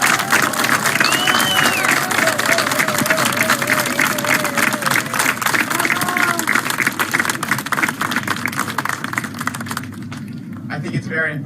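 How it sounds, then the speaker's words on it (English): Applause and cheering from a crowd welcoming new citizens at a Fourth of July naturalization ceremony, steady dense clapping for about ten seconds that fades near the end, with voices mixed in. "one big round of applause for all the new citizens."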